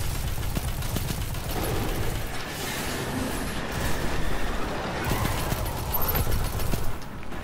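Gunfire in the video game Destiny 2 during a Gambit match, with dense rapid bursts of shots running continuously at a fairly loud level, layered over game effects and rumble.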